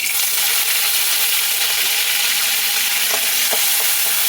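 Curry leaves and chana dal fry in hot oil for a tangy tamarind kuzhambu, giving a loud, steady, dense crackling sizzle throughout, with a few sharper pops toward the end and no voices.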